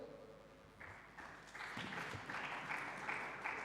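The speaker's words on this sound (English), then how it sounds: "Give him a round of applause as he comes." Applause from an audience at a forest sector investment dialogue as a ministry representative comes forward, starting faint and swelling into a steady, moderate patter of clapping with a brief tone at the outset.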